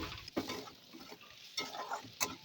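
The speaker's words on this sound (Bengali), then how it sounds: "দিয়ে ভালোভাবে মশলাটা ভালোভাবে কষিয়ে নেব।" Spices and potatoes are stirred in a frying pan for a fish curry, the spoon scraping and clicking softly in a few quiet strokes over a faint low sizzle.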